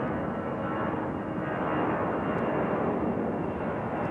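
A Delta Airbus A319 airliner departs at Raleigh-Durham airport, its engines giving off a steady, even roar that holds at a constant level throughout, with no voices over it.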